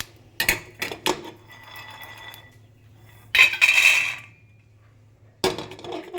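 Roasted peanuts being moved from a pan onto a plate in a home kitchen, with a few sharp metallic clinks and scrapes of a spoon against dishes, close and fairly quiet, separated by short pauses.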